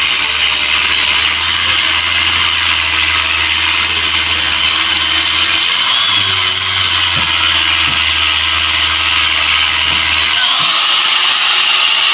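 A grinder runs with a steady, loud high whine and a low motor drone beneath it, the pitch shifting slightly midway before the low hum cuts off near the end and a whirring wind-down follows.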